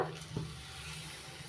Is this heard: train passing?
no